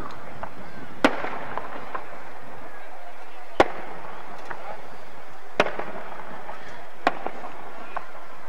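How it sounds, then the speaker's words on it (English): Fireworks at an outdoor Christmas parade burst in a handful of sharp, loud bangs spaced a couple of seconds apart, over a low crowd murmur with faint voices. "Great fireworks display."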